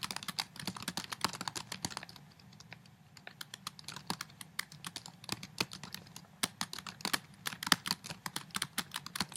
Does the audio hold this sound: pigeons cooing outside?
no